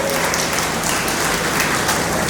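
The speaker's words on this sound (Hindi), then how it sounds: "हम जोरदार तालियों से उनका सम्मान करेंगे।" Audience applause at a school campus annual day function, a dense steady clatter of many hands clapping together, loud and unbroken.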